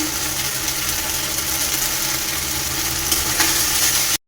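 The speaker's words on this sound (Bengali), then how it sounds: "মশলাটাকে ভালো করে কষিয়ে নিয়েছি, দেখুন তেল ছেড়ে এসছে মশলাটার ভেতর থেকে" Onion, garlic and ginger spice paste with chilli powder fries in oil, a dense continuous sizzle with soft stirring, cutting off abruptly at the end.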